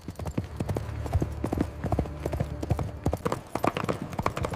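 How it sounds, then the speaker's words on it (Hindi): Rapid hoofbeats of a horse galloping clatter in a steady, dense rhythm throughout, fairly faint and mixed as an effect in an animated devotional story. "घाटम जी घोड़ा लेकर के जा रहे थे"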